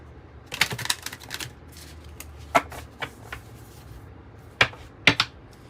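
Cosmos Oracle cards being shuffled by hand in quick, crisp riffling bursts, with a cluster of rapid flicks early on and a few sharper isolated snaps later, close and fairly quiet with no talking.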